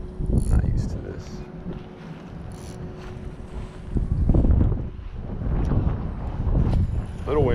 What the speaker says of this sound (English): A little windy out here today.